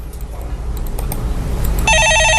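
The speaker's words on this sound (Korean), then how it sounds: "예, 전화 받아보겠습니다." A telephone rings in a Korean stock-market call-in broadcast. A bright electronic ring with a warbling pattern begins near the end, over steady background hum.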